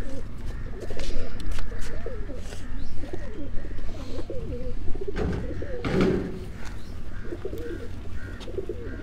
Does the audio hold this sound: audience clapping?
no